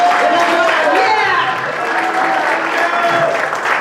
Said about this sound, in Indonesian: Berikan aplaus luar biasa untuk sistem LA Genius.